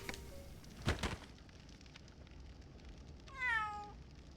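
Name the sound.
cat meowing in Labyrinth of Galleria video game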